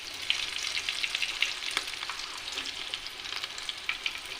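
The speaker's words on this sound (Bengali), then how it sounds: "এইভাবে বড়াগুলোকে আমি উল্টে পাল্টে সুন্দর করে ভেজে নিচ্ছি।" Shrimp fritters frying in hot oil as they are turned: a steady, dense crackling sizzle that runs throughout with small pops and an occasional utensil scrape, close-up and continuous.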